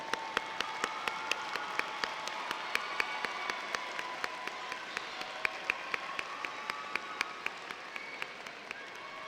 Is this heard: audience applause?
yes